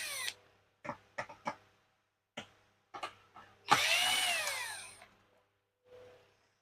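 Screws being removed from a Sony LED TV panel with a power driver, several short whirring bursts separated by pauses, then one longer descending drill whine, close and clear.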